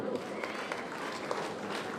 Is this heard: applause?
yes